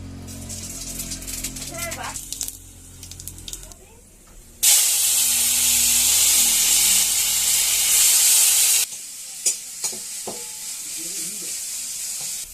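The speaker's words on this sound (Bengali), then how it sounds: "এই কড়াইতে আমি তেল দিয়ে দিই।" Bengali five-spice tempering dropped into hot oil in a kadai bursts into a loud, steady hiss for about four seconds, with quieter clinks and stirring before and after.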